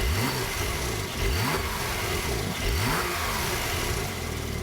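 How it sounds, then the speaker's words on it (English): A European-spec 2021 Porsche 911 Turbo Cabriolet with its flat-six boxer engine, revved repeatedly in close, loud rising and falling surges. "It has the flat-six boxer precision sound."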